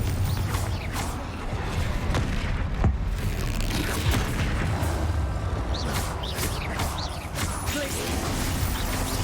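Fire spell blasts and impacts from Hogwarts Legacy combat, a dense, continuous roar of booming bursts and crackling debris with sharper hits scattered throughout, loud and close, no talking over it.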